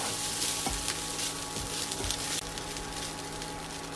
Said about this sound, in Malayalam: മിക്സ് ചെയ്യുമ്പോഴത്തേക്ക് അടി കൂട്ടി ഇളക്കി കൊടുക്കണം